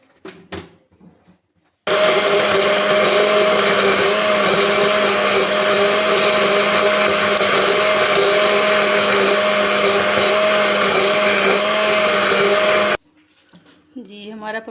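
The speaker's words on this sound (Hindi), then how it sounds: "और इसको ग्राइंड कर लेंगे।" A kitchen blender grinds papaya with a spoonful of sugar for a thick shake, a loud steady whirring roar running for about eleven seconds, with brief talk before and after.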